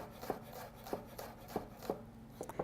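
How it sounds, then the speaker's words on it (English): Garlic is minced with a knife on a cutting board, a steady series of soft, close chops repeating at an even pace, fairly quiet with no talk. "then you can crush it using your knife. Mince it."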